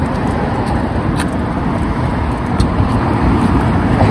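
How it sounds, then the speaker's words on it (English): Cars pass on a road in the early morning, heard from the roadside as a loud, steady rumble of tire and engine noise with wind buffeting throughout and no speech. "wait for these cars to pass by"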